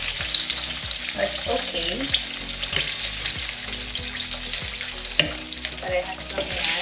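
Chicken wings frying in a pan, a loud, continuous close sizzle with occasional stirring and scraping; a voice speaks briefly.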